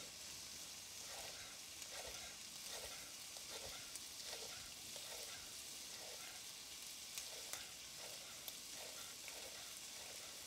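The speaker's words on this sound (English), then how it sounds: "Let's give the shrimp another quick turn around the pan." Shrimp and garlic sauté in olive oil in a pan with a steady, close hiss of sizzling, and soft rhythmic stirring pulses repeat about every half second throughout.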